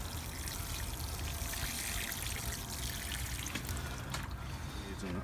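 Water is poured onto newly planted zucchini in a garden, a steady, fairly loud splashing pour that continues throughout under a faint hiss.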